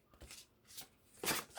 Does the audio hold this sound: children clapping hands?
no